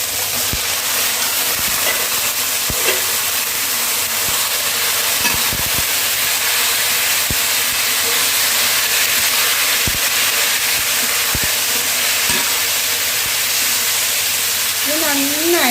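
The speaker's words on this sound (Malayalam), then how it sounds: "ഇനി നമുക്ക് നമ്മുടെ ബീഫ് ഇട്ട് കൊടുക്കാം." Beef sizzles steadily as it goes into a curry pan over a wood-fired stove, a broad continuous hiss with scattered clicks and scraping stirs throughout.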